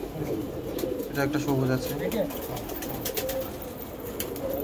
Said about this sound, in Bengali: শুধু পায়রাগুলো দেখুন আপনারা